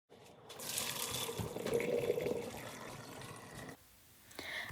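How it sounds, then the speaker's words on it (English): Cooked linguine for Alfredo is poured into a colander, with a rushing splash of draining water that builds over a few seconds, then drops off to a quieter trickle. "I'm going to put them in a colander and I'm going to drain them."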